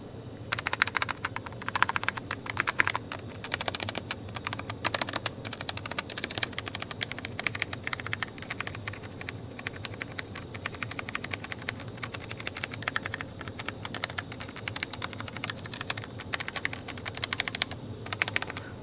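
Typing on a Logitech G915 TKL low-profile gaming keyboard with tactile switches, a steady stream of fairly quiet, close key clicks and taps lasting throughout, with no talking.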